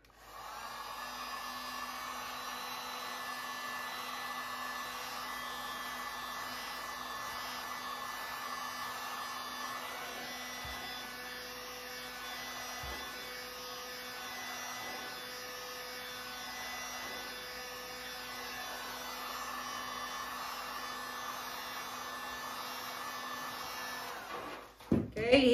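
A heat gun or hair dryer blows steadily on the edges of paint on an abstract artwork, a continuous whirring roar that runs unbroken and close for about 25 seconds with no talking, then cuts off with a few clunks.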